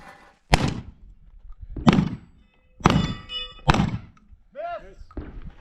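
A team shotgun event: four loud, sharp shotgun blasts fired at irregular intervals of about a second, each with a short decaying boom, with brief talk between shots.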